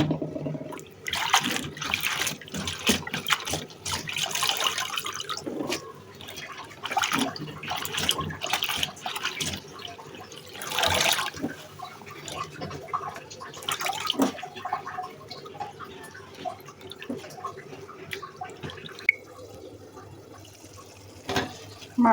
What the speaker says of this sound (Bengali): এখন শাকগুলো ধুয়ে নিব।